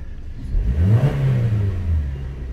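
A 2009 Chevy engine revs up from idle while parked in neutral, its pitch climbing to a loud roar and then easing back, close by with no talking.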